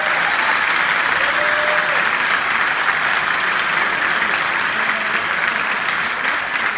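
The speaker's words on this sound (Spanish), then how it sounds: "Així que un aplaudiment per a aquest cinema històric del poble." Loud, dense applause from a cinema audience fills the historic El Retiro cinema at a festival's 50th-anniversary opening screening, a continuous wash of clapping that stays strong from start to finish.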